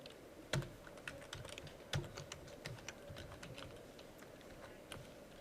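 Keys clack in uneven bursts on a computer keyboard during a Java programming lecture, with a few sharper louder strokes standing out among quieter taps over a steady background hum.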